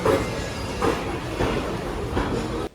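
Rumbling train noise at an Indian railway station platform, with rhythmic clunks every half second or so, like carriages rolling slowly past close by, ending abruptly.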